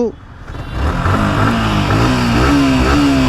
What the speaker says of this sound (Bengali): এই হচ্ছে আর one five version three Indian বাইকের সাউন্ড